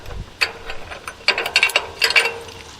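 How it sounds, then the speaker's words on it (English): A ratchet wrench with a 1/2-inch socket loosening the lock on a GRS searchlight railway signal, several quick bursts of sharp metallic clicking close up, separated by brief pauses. "So 1/2-inch socket takes off the simple lock that keeps the thing closed here"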